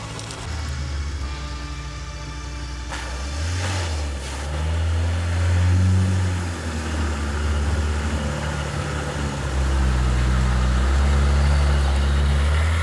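A homemade ATV's diesel engine drones steadily up close while driving over dirt, rising and falling in pitch as it works, with a rough rumbling hum and no voices.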